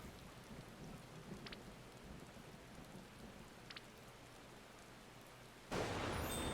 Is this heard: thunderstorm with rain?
yes